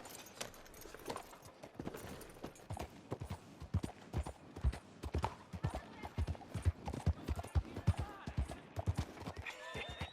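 A horse in Red Dead Redemption 2 clip-clops in a steady rhythm of close, clear hoofbeats that grow denser toward the end, with a brief whinny.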